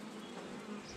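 Honey bees buzzing at a beehive, with a dense, steady hum of many insects close by and no break for the whole second.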